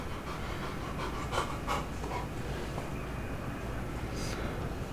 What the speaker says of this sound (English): My dog is, for some reason, just sitting there panting.